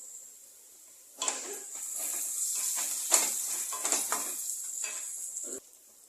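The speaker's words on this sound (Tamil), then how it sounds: "கருவேப்பிலை கொஞ்சம் மிக்ஸ் பண்ணிக்கிறேன்" Curry leaves sizzle and crackle in hot oil in a pan for a curry, a steady frying hiss with bursts of spatter and a few stirring scrapes, close and fairly loud for about four seconds before cutting off.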